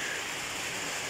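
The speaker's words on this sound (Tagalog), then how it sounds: "Ug husog na hangin. Ug ulan." Strong wind and rain during Typhoon Dante in Surigao del Norte in 2021, a steady, fairly faint hiss of downpour and gusting air with no breaks.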